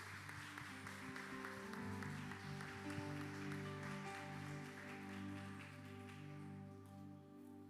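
A church congregation gathered for a family service applauding the Lord, a soft, distant, steady patter of clapping over a sustained organ or keyboard chord, gradually thinning toward the end.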